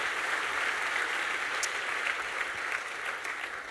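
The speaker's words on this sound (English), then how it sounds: "How about a round of applause?" An audience applauds at a campus welcome weekend session, steady clapping from a crowd at moderate distance that fades slightly toward the end.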